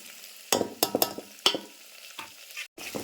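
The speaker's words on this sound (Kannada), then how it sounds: "ಈಗ ಹೀರಿಕಾಯಿ ಸರಿ ಹತ್ತಿನಾಗಿ ಫ್ರೈ ಆಗ್ಬೇಕ್ರಿ ಈಗ ಎಣ್ಣೆ ಒಳಗೆ" Ridge gourd and onion frying in oil in a home kitchen pan, with a spatula stirring in several sharp scraping strokes over a soft sizzle, close by and without speech.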